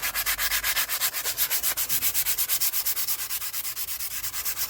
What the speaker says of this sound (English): So I just kept going with the aluminium foil, working it through, cutting through the rust, and washing it away.